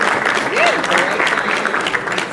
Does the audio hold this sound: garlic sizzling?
no